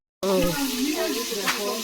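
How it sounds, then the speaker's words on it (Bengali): River shrimp fry in a pan with a steady, close sizzle and hiss that runs without a break, while voices talk over the frying. "এই যে মাছ ভাজা শুরু করে দিছে"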